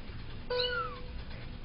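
A single cat meow, short and rising then falling, heard close against a low, steady background hum.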